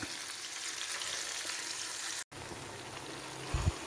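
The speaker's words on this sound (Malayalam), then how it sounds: "ബാക്കി എണ്ണയ്ക്കകത്ത് നമുക്ക് വെളുത്തുള്ളി, ഇഞ്ചി, കറിവേപ്പിലയൊക്കെ മൂപ്പിച്ചെടുക്കാം." Garlic, ginger and curry leaves fry in leftover oil with a steady close sizzle, interrupted once by a brief gap and ending with a small knock.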